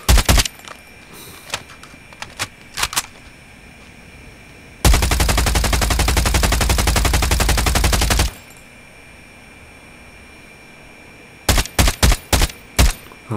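Gunfire in the mobile shooter Call of Duty Mobile during a ranked match: a few sharp single shots, then a loud sustained automatic burst lasting several seconds, followed by another quick cluster of shots.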